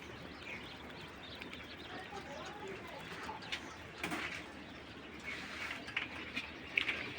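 King quail calling on a farm, soft cooing and chirping notes scattered through steady low background noise, moderately distant and fairly faint.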